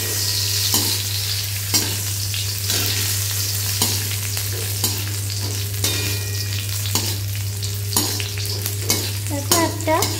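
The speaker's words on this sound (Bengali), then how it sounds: "কাজু আর কিশমিশ দেওয়ার পরে এটাও একটু নেড়ে চেড়ে 2-3 মিনিট ভাজা ভাজা করে" Cashews and raisins fry and get stirred in a pan for Bengali basanti pulao, a continuous close sizzle broken by regular scraping strokes of a spatula, with a steady low hum underneath and no talk.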